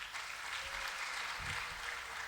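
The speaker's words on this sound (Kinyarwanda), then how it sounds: "Reka dukomere ijambo ry'Imana amashyi menshi" Church congregation applauding together after being invited to clap, a dense sustained wash of handclaps held steady throughout at moderate level, with no voice over it.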